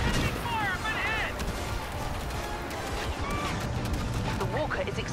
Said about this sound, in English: Sending fire up ahead!